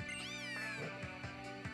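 A Litten cry from Pokemon Ultra Sun, a short cat-like meow with rising and falling tones, heard over steady game background music.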